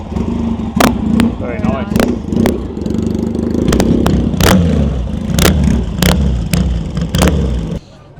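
Classic Triumph motorcycle at a bike night, kick-started and then revving in repeated sharp bursts over a running engine, with people chatting nearby.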